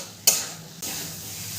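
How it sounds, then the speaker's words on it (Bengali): Potatoes and spices are stir-fried in a hot pan for a dhaba-style bhindi dish as water is poured in. A sudden loud hissing burst settles into a steady close sizzle with stirring, and no one speaks. "জলটা দিয়ে আলুটাকে ভালো করে আমি কষিয়ে নেব, যতক্ষণ না পর্যন্ত মশলার কাঁচা গন্ধটা দূর হচ্ছে।"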